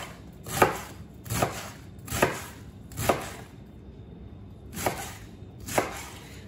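A knife chops Chinese cabbage into strips on a board, making six crisp, close thuds at a steady pace with one longer pause midway and no talking.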